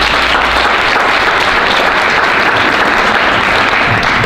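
Steady, loud applause from a church congregation at a Black History celebration, a thick continuous wash of clapping that holds at full strength throughout.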